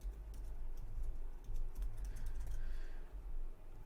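Soft keystrokes on a computer keyboard enter a website name in short bursts of quick clicks, close and fairly quiet over low room hum.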